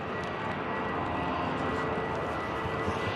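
A British Airways shuttle plane taking off, a broad steady roar of jet engines heard from a distance, constant and unbroken throughout.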